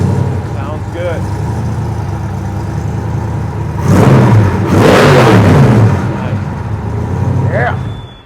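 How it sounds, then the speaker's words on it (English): A fuel-injected car engine starts up and revs in a couple of loud swells over a steady idle, close by, with people talking over it. "This thing will fire up, and that's the beauty of fuel injection."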